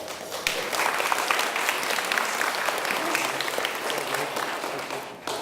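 Steady applause from the audience at an elementary school D.A.R.E. graduation ceremony, many hands clapping together at a constant moderate-loud level before briefly tapering at the end.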